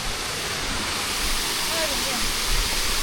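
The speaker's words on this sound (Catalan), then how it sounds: "Ahora la cascada es alucinante." Waterfall roaring along a family hiking route at the El Monstruo cascade in Millares, a steady dense broadband rush of falling water, loud and close, with faint voices barely showing beneath.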